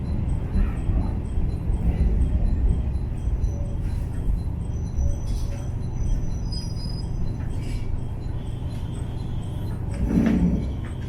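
Station platform at Rumoi while boarding the 18:19 local train to Fukagawa, with a steady low rumble of an idling train, faint knocks and a brief squeal near the end.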